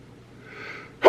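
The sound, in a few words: sneeze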